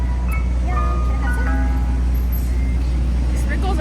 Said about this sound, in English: My boyfriend said that this is like a very iconic ice cream truck